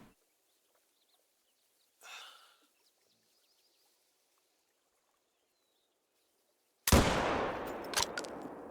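A single loud hunting rifle shot in theHunter: Call of the Wild rings out near the end after long quiet, with a rolling echo tail; a faint earlier rustle or call sounds briefly.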